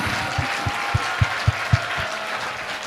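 An audience greets a guest with applause, heard as a rhythmic run of about eight evenly spaced, fairly loud claps over a soft hall murmur, fading after a few seconds.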